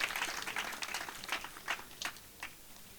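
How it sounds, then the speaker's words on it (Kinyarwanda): Scattered clapping from a church congregation, a dense patter of hand claps that gradually thins and fades over a few seconds. "Dukomere Imana amashyi, yakoze ibirenze"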